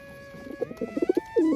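Pigeons cooing in a village coop, a run of soft, rhythmic coos close by, growing louder toward the end with no talk over them.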